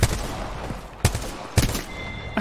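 Gunfire from a weapon in Apex Legends, three loud sharp shot bursts spaced about half a second apart over a steady game background hum, with a thin electronic tone near the end.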